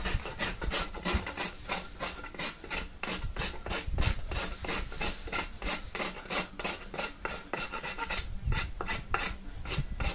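A coarse rasp filing a horse's hoof during trimming, a steady run of close, loud back-and-forth scraping strokes in a fast, even rhythm.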